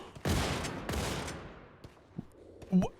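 Two heavy shotgun-like blasts from the video game Wolfenstein 2 as the triggers are spammed, each with a long decaying echo, followed by a few fainter clicks and a short sharp sound.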